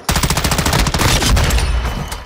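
Rapid bursts of shotgun fire in a video game, loud and close, a dense volley of repeated blasts over about two seconds with no talk.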